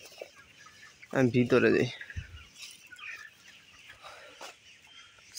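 Sonali chickens cluck loudly nearby in a short burst while being fed, then fainter scattered clucks under a quiet voice speaking.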